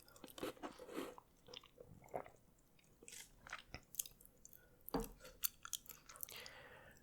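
Close, soft chewing of a Burger King Whopper, with wet squishy bites and light crunches in irregular bursts, quiet and intimate with no talking.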